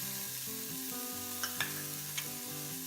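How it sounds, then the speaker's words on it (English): Hing crackles and spatters in hot oil in a cooking pot, a soft steady sizzle with a few sharp pops, faint and close beneath background music. "I'm just going to take a pinch of this hing once you hear the spluttering"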